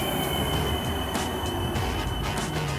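A Stadler FLIRT passenger train from Skierniewice rolls past close by, a loud continuous rumble of wheels on rail with squealing and faint rhythmic clicks throughout.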